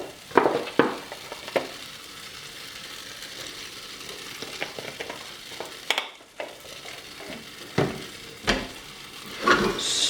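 Gnocchi sauce thickened with a splash of milk simmers in a pan while a spoon stirs it, giving scraping strokes and bursts over a soft steady sizzle, close by with no talking.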